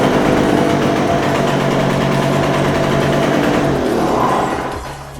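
Small Tiger TG950 generator engine running after repair of its tank and starter, a loud steady buzzing drone close by throughout that drops slightly in level near the end.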